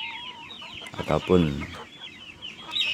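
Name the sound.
chickens clucking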